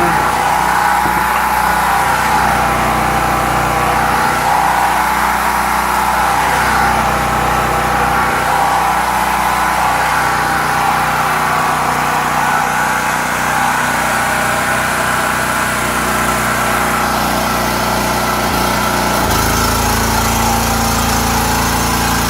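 A Predator 170F generator engine fitted with a Tonco tri-fuel carburetor and fed through a flexible hose runs loud and close, its steady drone dipping and surging in a few slow swells before settling into an even idle near the end.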